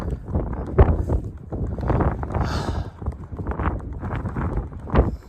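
Strong wind on Snowdon buffets the microphone in steady rumbling gusts that rise and fall, with no voices.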